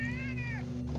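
A pet cat gives a single clear meow lasting about half a second, close and moderately loud, rising slightly and then falling away over a steady low background hum, with no talking.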